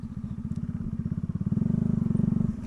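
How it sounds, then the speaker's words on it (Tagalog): A Bajaj Dominar 400 motorcycle being ridden gives a close, throbbing engine note with rapid even pulses that quicken and grow louder as it revs, then drop off at the end. "Ayos din gamitin yung Dominar sa off-road, no?"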